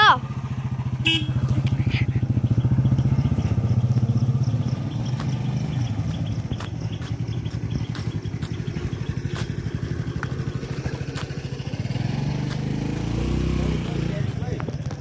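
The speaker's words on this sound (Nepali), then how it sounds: "अहिले चाहिँ यहाँ सबलले बाइक सिक्दैछ" A motorcycle engine runs steadily nearby, rumbling and putting along as it is ridden, with a light clatter and voices in the background.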